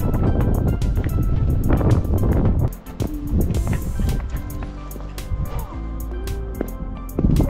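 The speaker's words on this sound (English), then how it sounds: "The wind's blowing, still freezing." Wind gusts across a steep hiking trail at Red Rock Park in New Mexico, a loud, steady roar of microphone buffeting that dips briefly midway before building again, with people talking faintly underneath.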